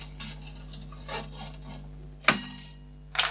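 A guitar string being trimmed with cutters 3 to 5 centimetres past the machine head, heard as a sharp, close snip, then a second quick snip near the end against a quiet background.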